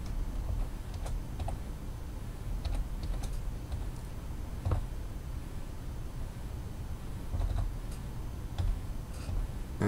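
Someone types on a computer keyboard, with light irregular key clicks coming in scattered bursts over a low background hum.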